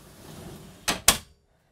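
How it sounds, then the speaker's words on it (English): A cabin door on a self-sufficient catamaran swings shut, giving two quick close knocks, a softer bump then a sharper latch thump, over a low room hum, followed by silence. "we just close this door"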